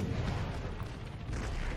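Cannon fire in the Empire Total War video game: a continuous, dense rumble of battlefield artillery with booming low-end energy that stays loud throughout, with no distinct gaps between shots.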